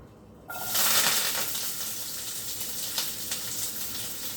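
Onions and curry leaves dropped into hot oil in a pan burst into a loud, steady sizzle that holds for several seconds, with faint crackles and pops rising through it; no one speaks.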